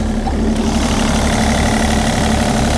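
The diesel engine of a 3.5-tonne mini excavator idles steadily up close with the engine bay open, a loud continuous low rumble with a constant hum and faint rattling.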